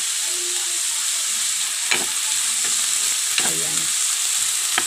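A pork chop fries in a pan with a loud, steady sizzle that runs through the whole stretch, broken by a few brief scrapes or clinks of a utensil, while a voice briefly speaks.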